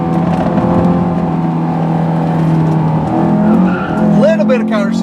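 The rear of a Honda S2000 AP1 slides out on a drive, tires squealing steadily over the droning engine as someone talks throughout.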